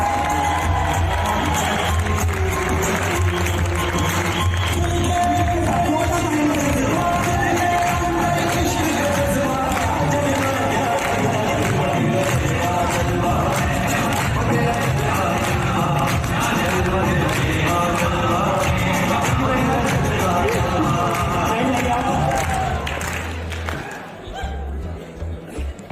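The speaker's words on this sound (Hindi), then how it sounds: "म्यूजिक के साथ मैं चाहता हूँ कि हमारे नए भाई बहन के लिए एक बार जोरदार तालियां होती" Loud, continuous music fills a celebration event in Greater Noida while an audience applauds and cheers beneath it throughout, before the sound drops away near the end.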